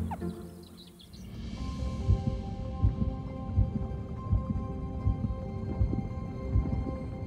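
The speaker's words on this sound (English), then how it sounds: "Time for her very first heartbeat." Rhythmic heartbeat of an unborn meerkat pup, three weeks into gestation, heard as steady soft thumps roughly every 0.7 seconds, starting about a second in and continuing over a low hum and faint tonal background.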